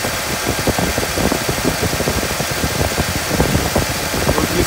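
A second-generation Toyota 4Runner engine idles steadily with the AC compressor clutch cycling, a close, even mechanical hum with faint knocking pulses throughout and no voices.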